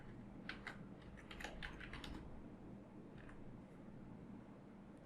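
Typing on a computer keyboard to enter a picture file name, quiet clusters of light key clicks in a short burst then a few scattered taps, faint under steady background hiss.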